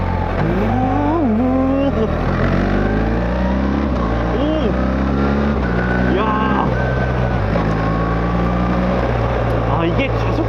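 A BMW XM drives with its automatic transmission shifting through the gears, the engine note rising and dropping at each change, heard from inside the cabin with people talking over it.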